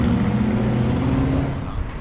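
A car passing by close and loud, with a steady broad rumble of engine and tyres that fades slightly toward the end.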